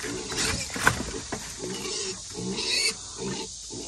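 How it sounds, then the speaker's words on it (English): A small pig on a farm grunts and squeals in short uneven bursts, close and fairly loud, amid shuffling and handling noises. "Shut your face, little piggy."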